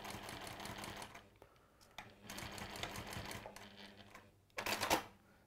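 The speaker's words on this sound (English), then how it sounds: "So I'm going to now sew along." A sewing machine stitches quilt squares together in rapid, steady runs of needle chatter, stopping and restarting several times, with a louder final burst, close up and without talking.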